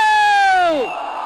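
Students in a crowd at a Grand Celebration 2024 event give one loud, drawn-out collective shout on a count of three. The sustained, falling tone breaks into rougher crowd noise as it fades.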